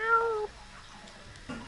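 A single short cat meow from Destiny 2 comes at the very start, close and clear, then fades into quiet game ambience.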